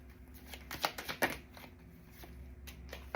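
Tarot cards being shuffled by hand, a series of soft riffling flutters and light slaps in irregular bursts, close and moderately quiet, without talk.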